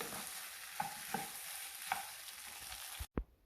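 Chopped taro root curry frying in a pan, a steady close sizzle with a few soft stirring knocks, cutting off abruptly near the end before a brief low thump.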